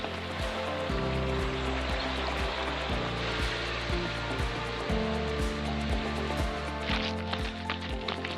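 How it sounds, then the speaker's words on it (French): The Avenne river near Rousson, at the edge of the Gard Cévennes, flowing as a steady broadband rush of water, close and continuous, with an irregular low thumping underneath throughout. "on retrouve la rivière Avenne"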